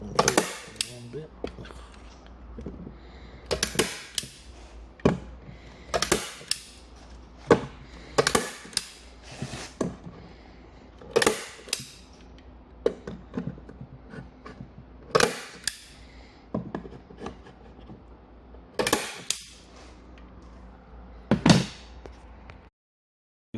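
Repeated sharp staple-gun shots fire into boot trim during a custom car audio install, each crack standing out loud and close in an irregular rhythm, with light handling noise between the hits.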